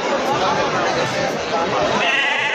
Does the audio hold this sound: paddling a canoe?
no